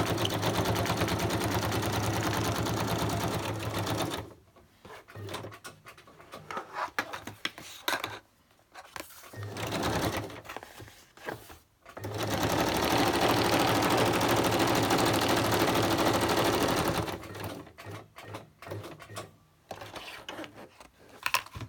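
Sewing machine stitching through a decorated Christmas folder, long steady whirring runs broken by short pauses and slower uneven stitching, close and fairly loud with no talk.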